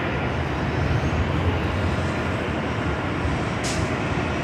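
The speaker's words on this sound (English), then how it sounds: "We do have a United Dreamliner, flight 38," A United Boeing 787 Dreamliner arrives at LAX from Tokyo Haneda, its loud, steady jet roar filling the air evenly with no voices.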